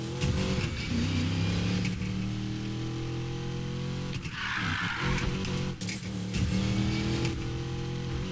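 A Dodge Charger roars through a street race in Need for Speed Payback, its engine droning steadily and revving up and down with shifts, a brief tire skid midway, loud and close throughout.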